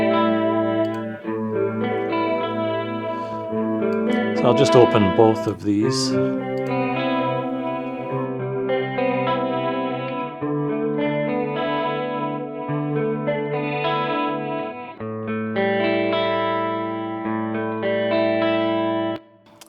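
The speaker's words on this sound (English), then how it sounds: "this left and right panned guitar, which is our clean guitar" Clean electric guitar tone modeled on a Fender Twin Reverb amp, two parts panned hard left and right, playing sustained chords and ringing notes with chorus and reverb shimmer, steady and full throughout with a brief spoken line near the start.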